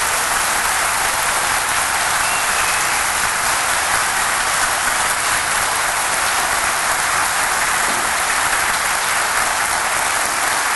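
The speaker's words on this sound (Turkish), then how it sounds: "89. yılı kutlamanın bu kadar alkış olacağını tahmin etmiyordum ben sevgili arkadaşlar." Seminar audience applauding during an anniversary celebration, a dense, unbroken roar of many hands clapping at constant loudness throughout, close to rain-like in texture.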